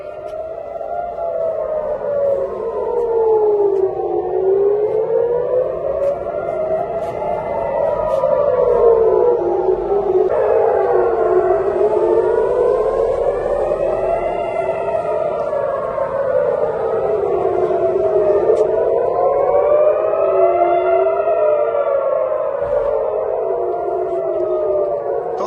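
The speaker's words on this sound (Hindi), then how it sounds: "लगातार सायरन बज रही है" Air raid sirens wail continuously across Tel Aviv during Iranian missile attacks, several rising and falling tones overlapping in slow cycles, loud and sustained with distant echoes.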